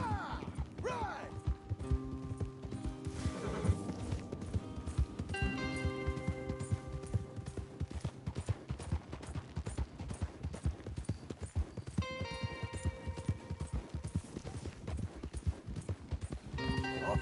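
Horses clip-clopping at a run in the Red Dead Redemption 2 video game, steady hoof beats throughout with game music and a whinny mixed in.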